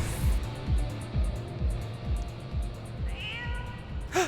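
A cat meows once near the end, a short rising-falling call heard over rhythmic thumping game music and effects during a Final Fantasy XIV raid.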